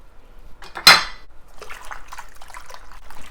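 Salt is added to a bowl of strawberries for rinsing: one sharp clatter against the bowl, followed by soft, close scraping and handling sounds.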